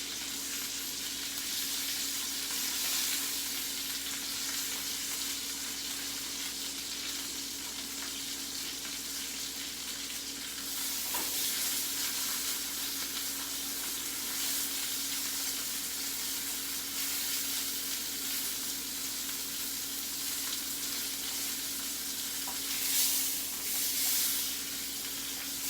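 A steak sears in a pan with a constant close sizzle and crackle that holds at a steady level throughout, with no talking.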